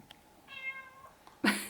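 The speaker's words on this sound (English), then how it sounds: "Should we let that poor little cat in there?" A cat shut outside a door meows once, a short, fairly faint tonal cry, followed by a louder close-up sound right after.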